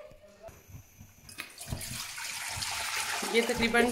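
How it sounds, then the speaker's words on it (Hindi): Water pours into a cooking pot, about two litres going in to cook beef for Afghan Kabuli pulao. It is a steady splashing rush that builds and grows fuller as the pot fills, with someone briefly speaking over the start. "2 लीटर हमने पानी डाल लिया है"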